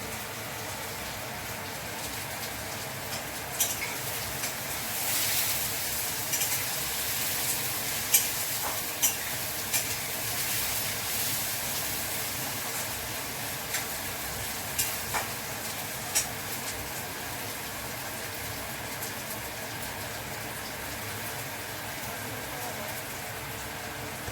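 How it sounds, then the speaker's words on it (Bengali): Onions frying to a reddish brown in a pan, a steady sizzle that holds for the whole stretch, with occasional sharp ticks and scrapes from stirring and a faint voice at times. "এই যে পেঁয়াজটা ভাজা ভাজা হয়েছে লাল লাল বাদামি কালারে"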